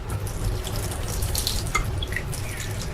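Water running steadily from a tap while making Neapolitan pizza dough for fried montanare, a continuous close splashing stream with a few bright drips and gurgles on top.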